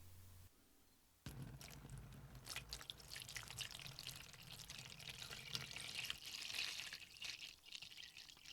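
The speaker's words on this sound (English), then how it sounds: "We'll pour in the peroxide." A 12% hydrogen peroxide solution poured into a container for retrobriting NES controllers, a faint steady liquid trickle and splash that begins abruptly and runs on quietly.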